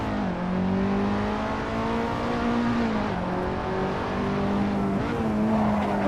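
Racing simulator game car engine holds a steady droning note under braking and cornering, with pitch dipping and rising on gear changes and a faint tire scrub underneath.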